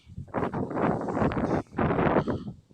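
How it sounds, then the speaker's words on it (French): Strong forest wind buffets the microphone in heavy, rumbling gusts, loud and close, with a short lull before another blast near the end. "c'est juste qu'il y a beaucoup de vent, ça me pousse"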